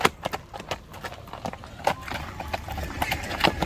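A large, strong horse named Hektar, a kok-boru horse from Ulukmyrza, walks with clear clip-clopping hooves in an uneven rhythm. The steps sound close and moderately loud, with faint rustling in the background.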